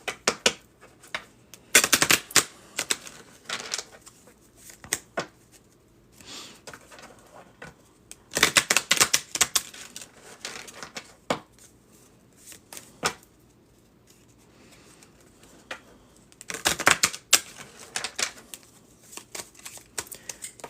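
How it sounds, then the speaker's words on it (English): Cards being riffle-shuffled close up in three quick bursts separated by quiet gaps, with faint handling noises in between. "Give this a quick shuffle."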